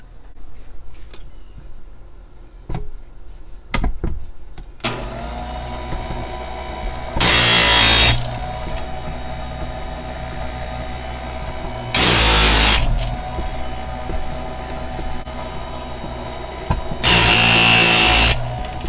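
A Harbor Freight sharpener grinds circular saw blade teeth in three loud, harsh bursts of about a second each, separated by quieter motor hum and faint handling clicks.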